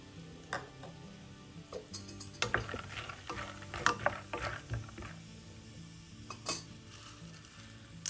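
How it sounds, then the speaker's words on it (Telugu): Dried red chillies and peanuts frying in a little hot oil for tomato pulihora, with a soft crackling sizzle broken by irregular clicks and scrapes of a spoon stirring in the pan, fairly quiet and close. "ఆయిల్ వేడయ్యాక ఎండుమిరపకాయలను వేసుకుందాం"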